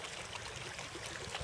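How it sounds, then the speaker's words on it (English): Water rushes steadily through the hose of a LifeStraw Mission purifier after its red valve is opened, a close, continuous trickling flow with no break. "You can see water is going to start flowing. Let it flow for a minute."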